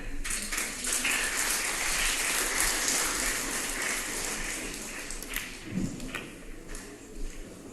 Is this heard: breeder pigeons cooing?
no